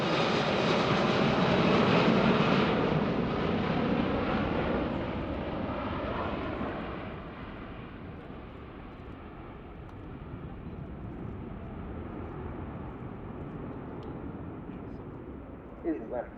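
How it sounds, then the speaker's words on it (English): Airbus Beluga XL cargo jet passing at the RIAT airshow, a loud broad engine roar that peaks early and slowly fades as it moves away, with an announcer talking over the aircraft noise. "This aircraft is much more efficient than its predecessor. The Beluga XL is able to turn around in just an hour at each of its destinations."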